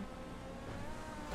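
Car accelerating in Grand Theft Auto V, a steady engine drone rising slightly in pitch over a short stretch, fairly close and continuous with no talk.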